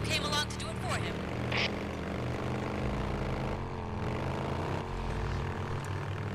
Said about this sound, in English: I can just rev the engine